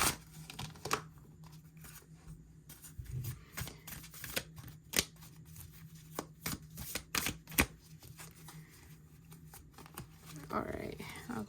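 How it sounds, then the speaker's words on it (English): Tarot deck being shuffled by hand, a run of sharp riffling and slapping bursts with quiet gaps between them, close up. "A nice shuffle."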